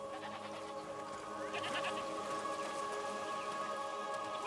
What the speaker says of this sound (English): What's over there? Goats!